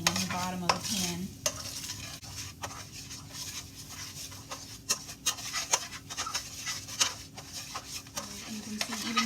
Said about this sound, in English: You can see even now that when I'm stirring, it's bubbling.